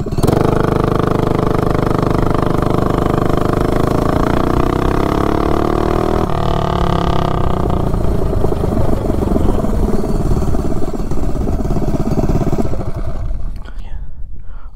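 A mini bike engine with a standard header pipe revs hard and climbs steadily through a 0 to 30 mph run, a loud continuous whine rising in pitch before cutting off near the end.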